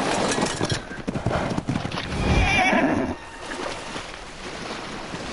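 Horses in the game Ark whinny and stamp, a loud neigh standing out mid-clip, with hooves and a washing, watery background filling the rest.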